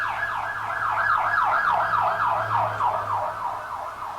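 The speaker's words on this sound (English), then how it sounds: "There goes the ambulance" An ambulance siren wails in rapid rising and falling sweeps, steady and fairly loud over a low rumble of traffic, fading slightly toward the end as it moves past.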